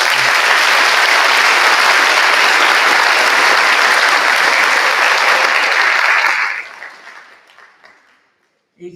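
Parents and guests at an eighth-grade class promotion ceremony give a big round of applause, loud, sustained clapping lasting about six seconds before tapering off into near silence.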